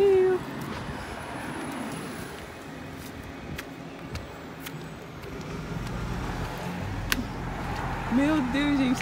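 On a cold night street in England, a cat gives a couple of short meows near the end over steady traffic and road noise, while a person talks at intervals.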